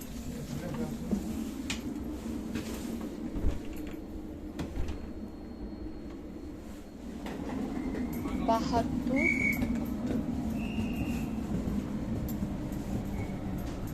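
A passenger train in Poland rumbles steadily throughout, with a few brief high whistle-like tones toward the end and people talking close by over the rolling noise.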